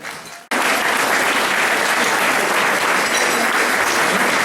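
A theatre audience at Salle Paul Eluard bursts into loud, dense applause after a brief quiet moment, sustained and even throughout, following a Provençal troupe's performance of an excerpt from Fanny.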